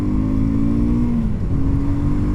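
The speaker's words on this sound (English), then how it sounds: "Now this engine will rev to about 7." BSA Scrambler 650 motorcycle engine holding a steady high rev under way on an open road, a loud continuous drone with a slight dip in pitch partway through, no talking.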